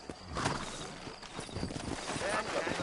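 Horse hooves clip-clop steadily in a Red Dead western game, a rhythmic clatter mixed into a busy outdoor soundscape with a voice speaking over it.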